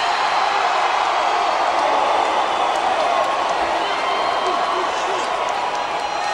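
Wrestling arena crowd cheering in a steady, dense roar of many voices, loud and continuous throughout, with no clear breaks.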